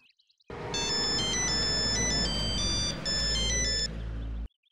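A mobile phone ringtone plays in a television drama scene, a bright melodic electronic tune lasting about four seconds at steady volume before cutting off abruptly.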